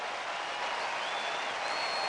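A baseball crowd rises to its feet in a big-league stadium, with sustained, even applause and cheering from many people filling the whole moment.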